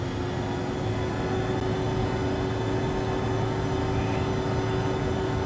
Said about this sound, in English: we're going to throttle up to full power